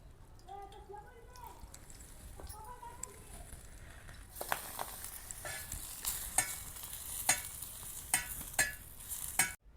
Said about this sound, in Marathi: आता हे आपण मिरचीचं लोणचं घेतलंय. जरा तळून घेऊ ह्याला भाजून छान